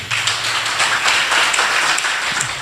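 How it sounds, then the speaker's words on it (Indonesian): An audience applauds for Pak Subaidi at a gathering, a crowd clapping in a dense, steady patter that keeps going for a few seconds before easing slightly. "Tepuk tangan untuk Pak Subaidi."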